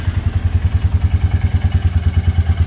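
A Royal Enfield Meteor 350 motorcycle's single-cylinder engine idling just after starting, close and loud with a steady rhythmic thumping pulse and no talk.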